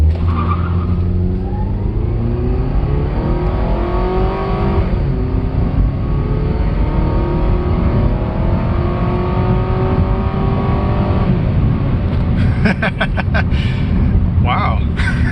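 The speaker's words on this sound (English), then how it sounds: "Zero to 60 in this 4-cylinder Honda." A 4-cylinder Honda with 184,000 miles accelerates hard from a standstill to 60 mph. The engine note climbs loudly through the gears with brief dips at each shift, and there is some tire noise near the end.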